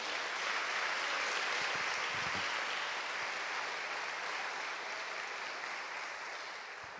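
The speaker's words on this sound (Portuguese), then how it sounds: "Vamos aqui aplaudir o Senhor." Congregation applauding during a church worship service, a steady, even wash of many hands clapping that holds for several seconds and tapers slightly toward the end.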